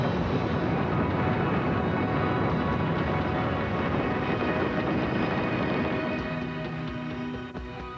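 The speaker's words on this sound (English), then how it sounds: "booster ignition, and liftoff" A rocket booster ignites and lifts off in a sustained, loud broadband roar that holds steady for several seconds, then begins to fade and thin out near the end as the vehicle climbs away.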